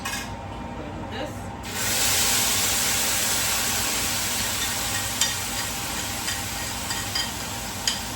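Sugar caramelizing in a pot for a curry, a continuous bright sizzle that swells louder after the start and holds steady, with occasional light taps and scrapes from stirring.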